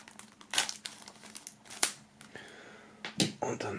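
Plastic shrink-wrap foil peeled off a CD box set, giving close crinkling and crackling in irregular bursts with a few sharp snaps and tearing rustles.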